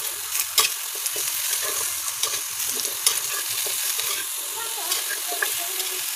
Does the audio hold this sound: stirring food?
yes